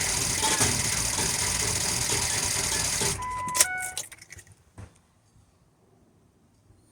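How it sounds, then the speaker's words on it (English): A car engine cranks steadily and continuously with a whirring starter, then stops with a few metallic clanks and faint clicks, never catching, leaving near silence. "It would turn over, there'd be some clanking, and just wouldn't start."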